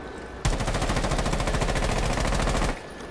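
A video game gun fires on full auto, played with a controller, as one loud, rapid, evenly spaced burst of shots lasting about two seconds, with no talking.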